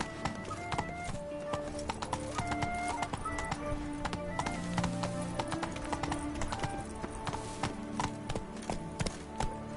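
Quick, steady hoofbeats as Roach gallops in The Witcher 3 on PS4, a dense rhythmic clip-clop carrying throughout alongside tonal game music.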